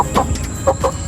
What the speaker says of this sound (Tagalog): Yun mga manok ni Uncle, guys.